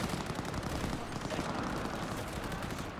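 Rapid bursts of automatic gunfire in the video game Cyberpunk 2077, dense and continuous crackling shots filling the whole stretch at moderate loudness, with no talk.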